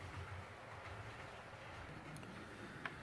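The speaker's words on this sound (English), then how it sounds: "Now that we have our train coming back around" A model train of two engines, 89-foot cars and a caboose rumbles steadily along its layout track with a low continuous roll and a faint click near the end, fairly quiet and without voices.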